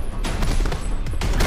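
Gunfire in a film bank-robbery scene: a burst of sharp, loud shots over roughly a second and a half, one cluster early and another near the end.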